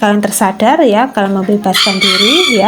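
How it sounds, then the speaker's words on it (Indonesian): A chicken crows nearby, a drawn-out rising and falling call heard partway through, mixed in with someone talking steadily over it. "Ya, itu ada ayam lagi ya."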